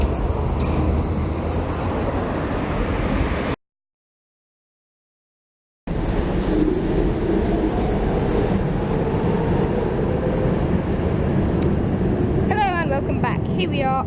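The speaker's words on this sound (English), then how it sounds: "Here we are on the little metro at Vörösmarty station" A ride on Budapest's little metro, with a steady rumble of the moving train and rail noise throughout, a brief cut to silence, and a voice talking over the ride.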